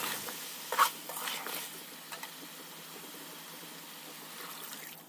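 Cauliflower tossed into a pan for an aloo fulkopi dalna, making a soft sizzle and stirring scrapes with a brief clatter early on, then a low, steady frying hiss, no voices.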